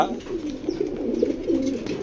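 Close, soft cooing of young Netherlands-bred pigeons in low repeated murmurs over a brief stretch, with faint background noise.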